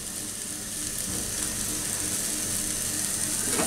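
Chinese street-food style chicken fried rice, seasoned with salt and pepper powder, fries hard in a hot pan with a loud, continuous sizzle and rattling crackle that builds slightly toward the end.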